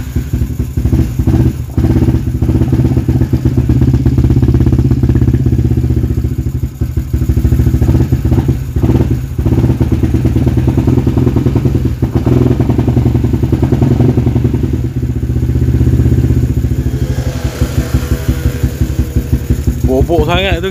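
A Yamaha LC135 motorcycle with a V8 FI upgrade runs loud and close throughout, its engine note steady with occasional blips, while people talk over it.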